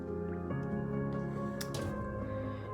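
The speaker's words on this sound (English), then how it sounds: "go ahead and drop all the sponges in there" Makeup sponges soaking in a disinfecting liquid give off soft wet squishes and gurgles over a sustained tonal hum, with a brief bubbly splash partway through.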